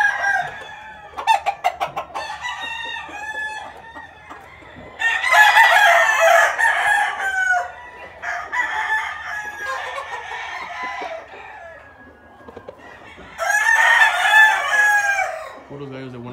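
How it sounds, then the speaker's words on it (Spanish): Quality fighting roosters kept in tall flight pens crow repeatedly and loudly nearby, long wavering calls overlapping one another, with clucking in between and no talk. "Puros gallos de buena calidad aquí, amigos."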